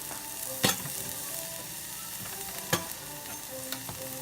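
Garlic and onions sizzle steadily in a frying pan, a soft continuous crackle with a couple of sharp clicks of stirring, no talking.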